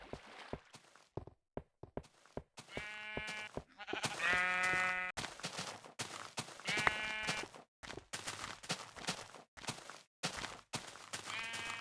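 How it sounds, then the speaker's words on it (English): Sheep of many colours bleat repeatedly in a video game, separate wavering calls with short gaps between them, mixed with soft footstep clicks. "so many different colors of sheeps"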